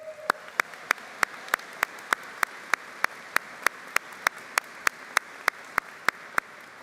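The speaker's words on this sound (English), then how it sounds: "Let's give them a round of applause" Commencement audience clapping for the Chancellor and Provost, heard as sharp, evenly spaced claps in a steady unison rhythm, about three per second, over a quiet hall.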